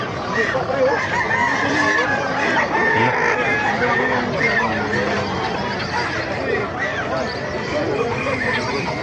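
A dense flock of chickens clucks nonstop at a market in Bocaue, with roosters crowing over the din and faint human voices mixed in.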